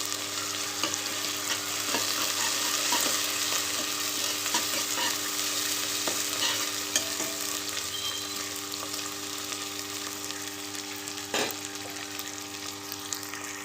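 Mint, coriander and ginger paste sizzles steadily in a pan for a meal maker rice dish, with a spoon scraping and stirring through it in irregular strokes, close and continuous, no voices.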